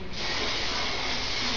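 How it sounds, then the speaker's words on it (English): A steady, close hiss of holding spray is sprayed onto curly synthetic hair set on rollers, one continuous burst lasting over a second with no talk. "For the finishing touch, I'll spray it down the holding spray"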